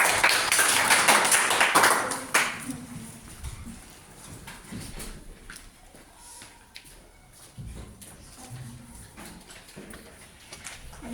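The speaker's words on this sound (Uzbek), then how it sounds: "Qarsak chop qo'yamiz." Enthusiastic hand clapping from a class of children, a dense burst of many claps for about two seconds, then tapering into scattered claps and shuffling classroom noise.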